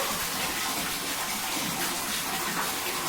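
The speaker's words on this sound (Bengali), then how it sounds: "অনেক গরম জল। এদিকে হও হ্যাঁ এদিকে হও হ্যাঁ জল পড়ে যাক ঠিক আছে।" Water poured over a child during a bath, a continuous rushing splash of water, close and fairly loud, steady for a few seconds with no talking.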